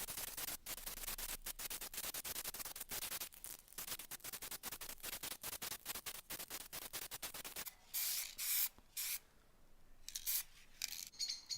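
Black gloss 2-in-1 paint and primer sprays onto an old wooden DVD rack in a rapid series of short, close hissing bursts that are fairly quiet and continue throughout with no talk.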